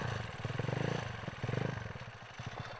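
A Yamaha Nouvo Racing Look scooter engine runs close up while riding, a chugging, pulsing mid-range drone that swells and eases in uneven surges.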